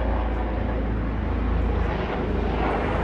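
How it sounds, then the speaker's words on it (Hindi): A helicopter flies over Palm Jumeirah, heard as a steady low rumbling engine drone that stays at a constant level throughout, with no voices over it. "हेलीकॉप्टर जा रहे हैं यहाँ पे"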